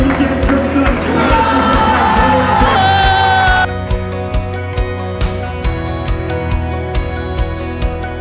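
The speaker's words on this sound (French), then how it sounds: "je voudrais qu'on applaudisse également Mickaël Johnson" Applause and cheering fill the hall at the Top Clef 2024 final, loud crowd noise over music that drops to a quieter level partway through while the crowd keeps going.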